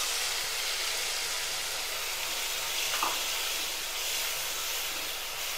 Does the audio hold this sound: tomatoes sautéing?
yes